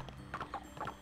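A foal walking in the video game Barbie Horse Adventures, its hooves clip-clopping in a quick, uneven patter of about six soft steps, close and fairly quiet.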